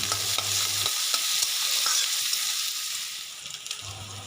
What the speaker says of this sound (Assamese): আদা নহৰু কেঁচা গোন্ধ যোৱালৈকে অকণমান ভাজিম।